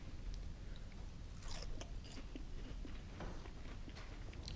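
Crisp crunching bites into fried onion rings, a few loud crunches followed by steady chewing, close up with no talking.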